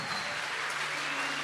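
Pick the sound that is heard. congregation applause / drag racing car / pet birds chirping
congregation applause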